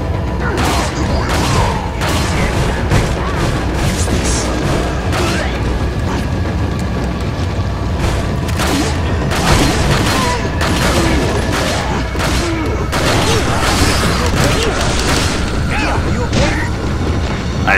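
Continuous loud gunfire and impacts from the Resident Evil 4 remastered game on PS4, dense cracking shots and crashes layered over a steady rumble throughout.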